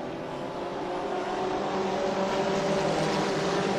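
Mini stock race cars at Flamboro Speedway roaring back to speed on a green-flag restart, a dense engine drone that builds steadily in loudness, heard from trackside with no talk.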